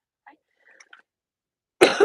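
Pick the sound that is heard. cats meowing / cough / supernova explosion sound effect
cough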